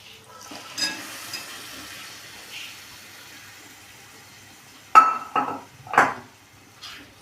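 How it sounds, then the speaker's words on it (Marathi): Boiled chickpeas are added and stirred with a spoon into a masala paste frying in oil, giving a faint sizzle with a few scrapes and clinks that turn into louder, sharper knocks of the spoon against the pan toward the end. "आता आपण जे चणे उकडून घेतलेले ते आपण या वाटणात घालून घेऊया."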